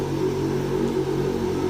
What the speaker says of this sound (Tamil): பைக் சத்தம்